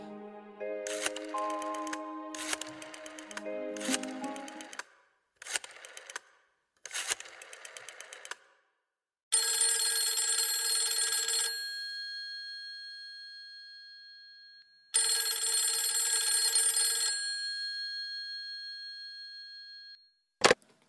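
A telephone rings electronically, starting with a rotary dial's clicking, then two long, bright ring bursts separated by silence, and ending with a short click as the receiver is picked up.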